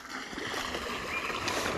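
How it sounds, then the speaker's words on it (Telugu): Running water splashes steadily over garden plants at a farm, a continuous gushing, gurgling stream close by with no pauses. "మా అమ్మ అయితే నీళ్ళు పెడుతుంది చెట్లకి."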